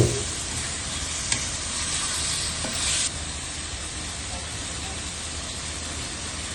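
Soy sauce hits a hot pan of stir-frying yellow noodles, setting off a loud, steady sizzle close by, with a couple of faint utensil clinks early on.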